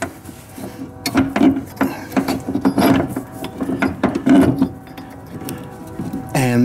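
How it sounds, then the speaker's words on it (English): A ratchet cranks a bolt while a coilover goes onto a classic Honda/Acura, giving fairly loud, close, rapid pawl clicks in repeated bursts across the whole stretch, with a brief whirring rattle at the end. "And now we're going to put the bolt in right here"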